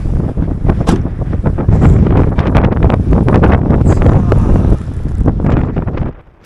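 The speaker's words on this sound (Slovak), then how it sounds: "Teraz svietilo slnko a už tu fúka vietor a sneží." Strong wind in Iceland, with snow falling after sunshine, roars and buffets the microphone in a loud, continuous, gusty rush that eases slightly near the end. No one speaks.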